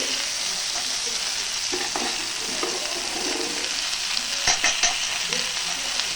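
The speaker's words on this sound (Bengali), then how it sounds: "এটাকে একসাথে মিশিয়ে ভালো করে ভেজে নেব" Fried lentil bori, sun-dried lentil dumplings, frying in a wok, a steady close sizzle with a few spatula scrapes and clatters near the end, without talk.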